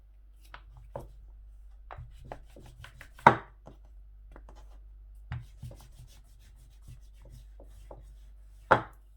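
Chicken cheese cutlet dough being rolled out by hand in a home kitchen, heard as soft scattered rubbing taps with a few sharper knocks of the rolling pin, close and quiet, with no talking.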